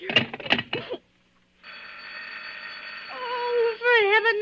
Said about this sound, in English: Hello, stop ringing me, do you hear?